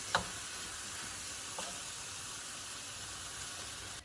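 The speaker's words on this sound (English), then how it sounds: "I'm going to go ahead and finish browning this up" Ground beef browns in a pan with a faint, even sizzle that holds steady throughout, marked by a couple of soft stirring knocks.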